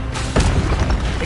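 Spell-casting effect in a Harry Potter video game: a short booming burst with a low, rumbling impact and a brief crackling tail, loud and close, with no voices.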